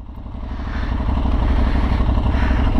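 An Aprilia Tuareg 660 motorcycle engine idles and revs up close, a rough rhythmic throb that grows louder over a few seconds, with no talking.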